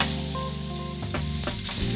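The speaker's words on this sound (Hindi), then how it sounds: "और अब हम इसको हाई हीट पे दो मिनट तक फ्राई करेंगे।" Potatoes, carrots and broccoli fry on high heat in a pan, giving a steady, loud sizzle with brief stirring scrapes toward the end, and nobody speaking.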